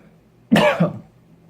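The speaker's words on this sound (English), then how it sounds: "Sorry, I've been coughing a lot lately" A single short cough from a man, a sharp burst followed by a second rougher push, close to the microphone in a quiet indoor room, with no talk around it.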